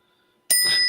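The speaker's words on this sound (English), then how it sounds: "There's that bell. You got 2 dings on that one." A bright bell ding on a livestream, silence then a single sudden sharp strike with a ringing, sustained high tone.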